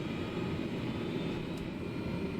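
A Cessna Caravan turbine engine spools up during startup in Microsoft Flight Simulator 2020, a steady droning whine with a low rumbling hum underneath, continuous and even.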